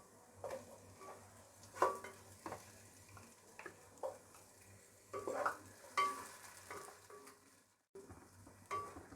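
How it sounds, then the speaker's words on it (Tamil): Onion, tomato and green chillies fry in a pan with a soft, steady sizzle, broken by repeated scraping and stirring clatters from a spoon; the sound is faint, close and has no talking. "இப்போது இந்த ஆனியன், டொமேட்டோ, பச்சை மிளகாலாம் நல்லா ஃப்ரை ஆகணும், நல்லா வதங்கணும்."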